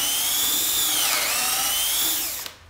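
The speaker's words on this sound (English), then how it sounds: "Corded drills do much better at this than cordless." A corded drill bores into a wooden jig in a home workshop, giving a loud, steady high-pitched whine that dips in pitch briefly near the middle, then recovers and cuts off sharply at the end.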